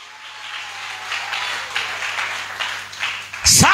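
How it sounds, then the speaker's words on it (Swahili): A church congregation in a Turkana mission claps heavily in praise, producing a dense, steady wash of applause that swells in waves and ends in a louder burst. "shangilia Yesu kwa makofi mazito"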